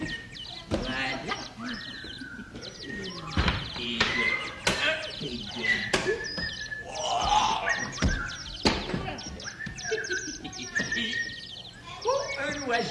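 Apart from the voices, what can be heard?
bird chirping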